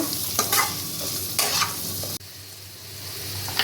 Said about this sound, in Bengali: দিয়ে এটা আমি আবারও ভালো করে নাড়াচাড়া করে ভেজে নেব।